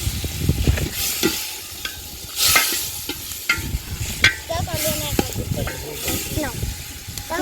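Khichuri sizzles and fries in a pot outdoors on a river sandbank, with intermittent stirring scrapes and hissing bursts while voices talk and call out nearby.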